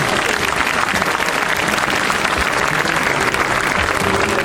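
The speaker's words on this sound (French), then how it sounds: "applaudissements pour Richard" A room full of people at a French welcome evening gives sustained, dense applause that stays loud and even throughout.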